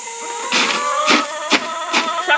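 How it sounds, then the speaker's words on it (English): Eggshells being crushed with a mortar and pestle as chicken feed, a close, repeated series of short gritty grinding bursts about every half second over a faint steady hum. "crush it up with the mortar"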